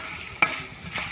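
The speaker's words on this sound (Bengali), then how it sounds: "আর এইখানে ভাজতেছি।" Long strips of raw jackfruit sizzle in hot oil as they fry into chips. A sharp stirring clack lands near the start, over a steady close bubbling hiss, with no talking.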